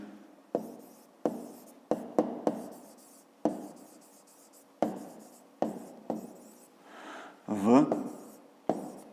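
A pen writes on paper during a Ukrainian fifth-grade maths exercise, making repeated short scratching strokes with sharp onsets in an uneven rhythm, close by and moderately quiet.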